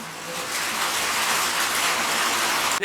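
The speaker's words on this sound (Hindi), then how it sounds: "बारिश जरा साउंड खराब हो रहा है." Steady rain falls outside a classroom during a physics lecture, a dense continuous hiss that stays loud and even throughout, with no one speaking.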